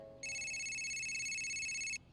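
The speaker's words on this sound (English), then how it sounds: "Someone stop the ringing!" An electronic telephone ring sounds once, a steady high warbling tone lasting under two seconds in an office on a cartoon set of George of the Jungle, clear and alone.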